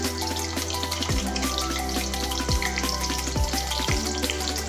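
Finely chopped onion fries in oil in a pan for chole masala, a dense, continuous sizzle close up, with a steady electrical hum and periodic low sweeping tones underneath.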